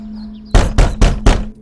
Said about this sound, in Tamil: ஏ தேஜா, கதவை தோறடா